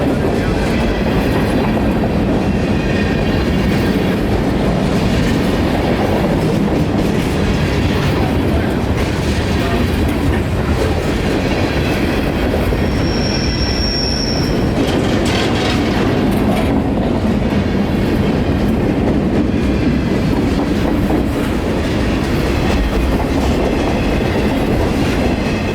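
A freight train carrying auto racks rumbles past up close in Florida, a steady loud roar of rolling wheels and rattling cars with rhythmic clacking, continuing throughout.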